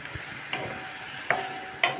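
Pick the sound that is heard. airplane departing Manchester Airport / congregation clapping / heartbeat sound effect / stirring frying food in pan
stirring frying food in pan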